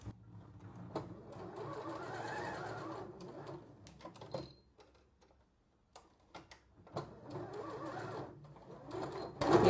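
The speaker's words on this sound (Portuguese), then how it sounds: "Aí a gente começa a costurar daqui pra já rebater esse pedacinho que a gente descosturou." A sewing machine stitches a towel being remade into a hooded panda towel, running in two steady, fairly close bursts of several seconds each with a short pause between them and no talk over it.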